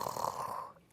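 Children at a storytime pretend to snore, their voices imitating the sound in a short, rough, continuous drone that trails off.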